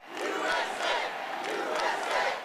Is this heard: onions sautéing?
no